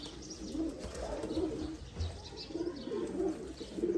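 Chapre pigeons cooing nearby: repeated soft, throaty coos in a steady rhythm, with faint chirps in the background and no speech.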